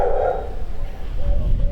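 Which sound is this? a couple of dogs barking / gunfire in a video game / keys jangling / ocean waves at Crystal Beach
a couple of dogs barking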